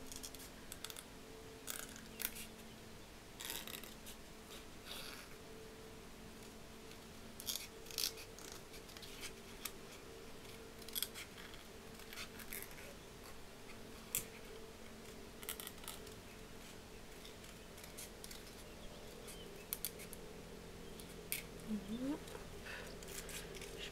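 Scissors snip through stamped paper pieces for a panda card, with brisk, irregular clicking cuts repeating close by over about twenty seconds alongside faint handling rustle.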